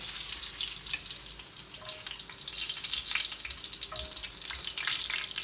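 Steady sizzling of lamb ribs frying in a hot grill pan, a continuous crackling hiss with small pops, fairly close and without any talking.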